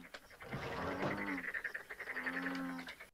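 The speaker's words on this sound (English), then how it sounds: "I like the sound of frogs." Frogs croak in a rapid, pulsing chorus, clear and fairly close, with no voices.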